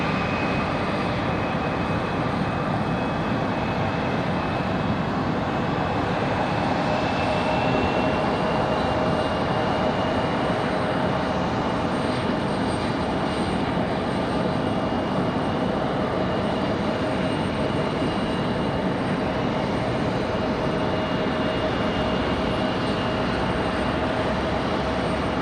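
A CRJ regional jet taxiing at Raleigh-Durham airport gives a steady, continuous engine roar with a sustained whine, holding level throughout without voices.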